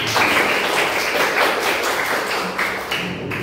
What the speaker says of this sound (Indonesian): Tepuk tangan, teman.